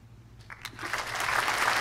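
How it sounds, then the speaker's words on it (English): An audience at a live stage show breaks into applause that swells from scattered claps into a steady, full roar of clapping, fairly close and loud by the end. "Let's give Roosevelt a big round of applause."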